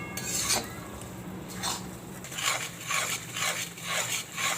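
Flour roasting in ghee for Gujarati adadiya pak, stirred in a pan with repeated scraping and clinking strokes at a steady rhythm, close and moderately loud with no talking.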